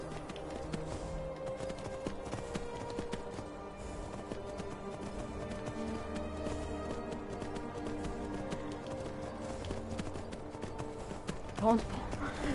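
Rapid hoofbeats of a horse in Skyrim gallop steadily under a dense layer of game music and effects, the clip-clop rhythm continuous throughout.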